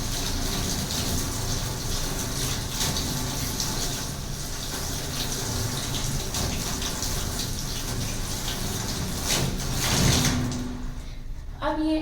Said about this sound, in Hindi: पानी को स्टार्ट करें और इसको धो लें।